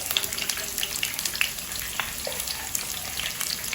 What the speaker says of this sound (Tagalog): Mag-isa muna tayo ng bawang at sibuyas.